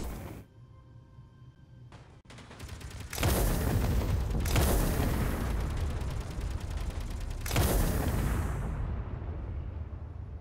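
Missile turrets on a ship in the video game Space Engineers fire with heavy, booming launches, first a short burst and then two long roaring salvos that fill the soundscape for several seconds before tailing off.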